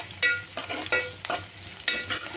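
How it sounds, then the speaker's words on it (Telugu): Upma ingredients fry in a pan while being stirred, with a sizzle under repeated scraping spoon strokes in uneven bursts, close and fairly loud, with no talking. "ఇంకా చూడండి ఎలా వేగిపోయినాయో"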